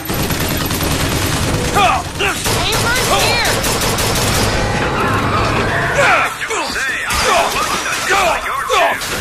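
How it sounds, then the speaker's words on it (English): Heavy gunfire in the video game Bioshock Infinite, with dense rapid bursts and machine-gun-like rattling, shattering impacts and booms filling a loud, busy mix throughout. "who else is shooting at me?"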